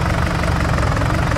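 A tractor engine idles in Farming Simulator 19, a loud, steady low chugging with an even knocking pulse and no talk.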